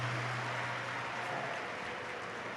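Audience applause rises at a Shiv Puran Katha religious discourse in Rohini, Delhi: a steady, dense wash of clapping that holds at an even level for a few seconds.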